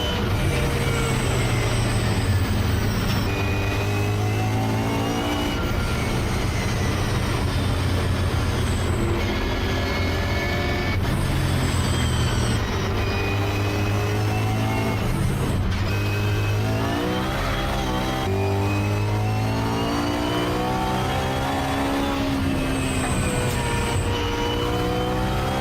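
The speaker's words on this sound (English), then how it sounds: "here we've got an E92 M3 with a straight cut gear transmission that's supercharged and has the Greddy Type S sounds" A supercharged BMW E92 M3 with a straight-cut gear transmission and Greddy Type S exhaust drives past. A loud, continuous engine note rises and falls through the gears, with a whining tone layered over a steady rumble.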